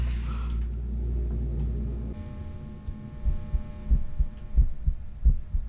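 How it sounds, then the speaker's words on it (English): A pounding heartbeat in the horror game The Hat Man: Shadow Ward throbs in a steady double-beat rhythm, loud and close, after a brief low hum fades out at the start. "Why is my heart beating so..."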